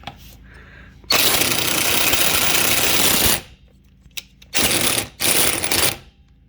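An Avid Power 20V cordless impact driver rounds off a bolt in a long, loud, rapid hammering burst of about two seconds, followed by two shorter bursts separated by brief pauses.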